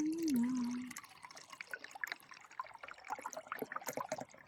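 Water poured into a Czech army MRE drink mix pouch outdoors, a close splashing trickle with scattered drips, following a brief voice at the start.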